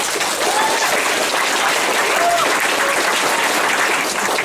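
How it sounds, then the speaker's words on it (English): Convention panel audience clapping together, a dense steady wash of applause from a large crowd that holds evenly throughout, with a few faint whistles or voices rising above it. "Clap if you think Rick would win."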